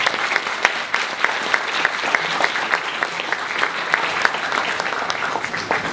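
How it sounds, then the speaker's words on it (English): A crowd gives a steady round of birthday applause at a corporate event for an innerwear company, dense and even clapping throughout, fairly loud and with no talk over it. "let us all put our hands together and give a round of birthday applause to Parkson"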